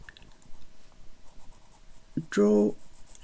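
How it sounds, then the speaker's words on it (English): A pencil sketches and shades on paper in soft, close scratching strokes, with a quiet rustle throughout. A brief voiced sound is heard near the end. "sketch around there, just some shading"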